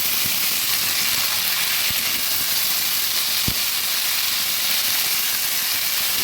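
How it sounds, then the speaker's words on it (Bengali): Eggs and potatoes frying in oil give a loud, steady, unbroken hiss of sizzling close by, broken only by a few faint clicks. "আগে ডিম আর আলুটা ভেজে দেবো"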